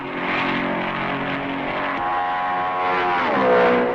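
A 1955 Ferrari Formula 1 car at the Belgian Grand Prix at Spa-Francorchamps, racing hard, its engine a loud sustained roar that shifts pitch partway through and swells near the end.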